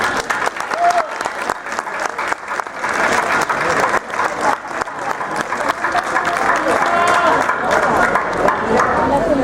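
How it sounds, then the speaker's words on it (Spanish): Festival crowd applauding during a town's fiesta opening proclamation in Gurrea de Gállego, a dense, sustained wash of clapping that grows steadier and louder, with scattered voices and cheers mixed in. "Un aplauso para los que no están con nosotros"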